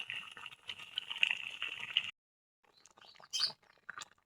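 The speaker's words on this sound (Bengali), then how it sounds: "এই দেখেন আমার কিন্তু এই যে চাল কুমড়াগুলো সুন্দর বলক চলে আসছে।" Pieces of ash gourd simmer at a rolling boil in a pot, giving a steady close bubbling hiss that cuts off abruptly, followed by a few faint scattered bubbles and pops.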